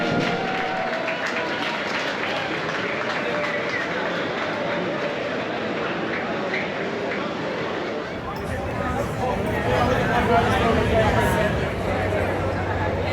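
Large crowd applauding and cheering at a railway station farewell for the last V set trains, a dense continuous wash of clapping and babble that swells louder and brighter in the final seconds.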